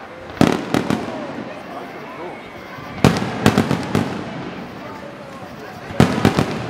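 A fireworks finale display in Marietta in 2012, with clusters of sharp booming bursts in three waves over a crackling background, and people talking faintly beneath.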